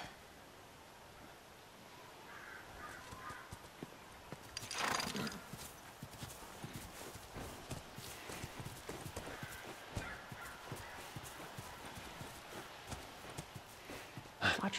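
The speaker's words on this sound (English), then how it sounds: "Watch the horse." A horse in The Last of Us plods along with a steady clip-clop of hooves on the ground, a brief whinny rising partway through, all fairly quiet with faint rustling around it.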